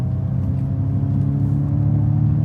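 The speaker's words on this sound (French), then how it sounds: "Je sais pas si vous entendez le bruit de faux V8." A Ford Mustang Mach-E electric car accelerating hard in sport mode on a country road, its synthetic V8 engine sound a steady low droning rumble heard from inside the cabin, with no voices.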